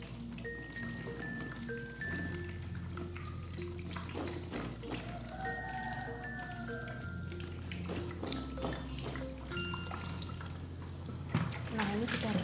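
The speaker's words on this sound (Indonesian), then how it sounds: "Bahan masakan yang kita rebus tadi jangan lupa dicuci kembali." Boiled cooking ingredients for vegetable lodeh are rinsed under a running kitchen tap, a continuous splashing trickle heard beneath steady background music.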